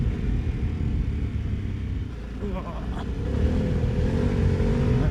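A Harley-Davidson Pan America motorcycle rides over rocky gravel, its engine a steady, close rumble under heavy wind noise, with faint crunching from the tyres and a slight rise in drive toward the end.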